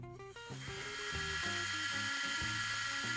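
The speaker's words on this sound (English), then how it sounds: "I'm using the sander to shape the sides of the headstock." An electric sander shapes the sides of a guitar headstock for a parlor guitar neck, a close high-pitched whine that changes pitch in steps as it bites into the wood, steady and loud.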